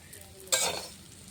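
Curry leaves frying with onion in a pan, mostly a quiet low crackle with one brief, sharp burst of sizzle and scraping as they are stirred.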